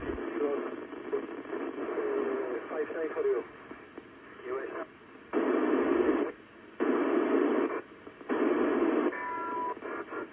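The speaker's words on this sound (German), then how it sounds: "Jetzt verschwindet sie schon im Rauschen." ISS satellite radio downlink received during an overhead pass with a satellite tracker, the garbled signal fading and breaking up into bursts of hissing static before dropping out.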